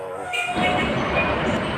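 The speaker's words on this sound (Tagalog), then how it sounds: "Tingnan nyo yung LRT." A loud LRT light rail train passes close by at a busy night market in Balintawak, its rumbling roar and screeching steady throughout with some crowd noise.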